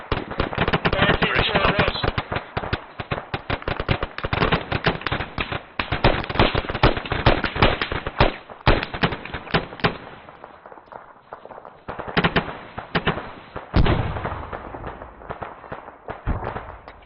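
A frag grenade blast and gunfire in a military video game: dense, rapid bursts of shots and cracking explosions, loud and continuous, with brief lulls between volleys.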